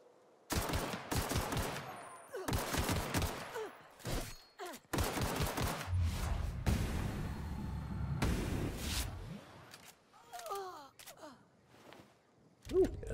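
Bursts of assault rifle fire in The Outer Worlds, several rapid strings of loud shots separated by short pauses, followed by quieter game sounds and vocal noises near the end.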